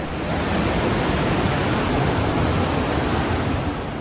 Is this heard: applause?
no